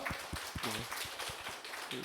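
A Sunday worship congregation gives thanks with quiet, fairly regular handclaps, somewhat distant, while faint voices murmur underneath.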